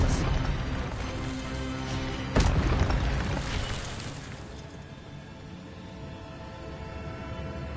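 A spell blast from the Hogwarts Legacy video game lands as a sudden booming burst, then fades into a low rumbling game soundscape with some voice.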